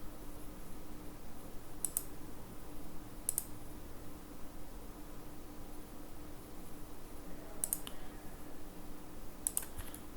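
Four sparse, crisp computer mouse clicks, some in quick pairs, sound alone over a steady low hum in a quiet room.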